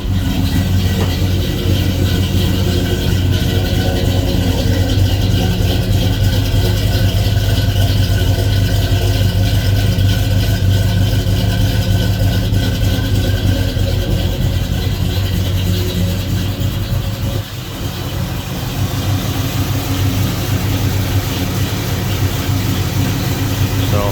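A car engine, owned by the family for twenty years, idles steadily with a low, even rumble that continues alone for the whole stretch, with one brief dip partway through.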